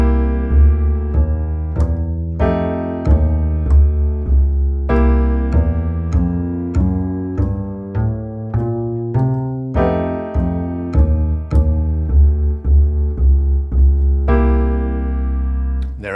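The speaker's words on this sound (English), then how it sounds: "Any bass player worth his salt will walk into the next chord" Bass guitar walking a line into the next chord, a steady sequence of deep plucked notes stepping from one to the next, close and clear with no talking.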